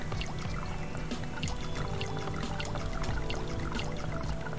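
Steady water pouring in the survival video game Subsistence, a continuous dense splashing and trickling stream that lasts throughout without any talk.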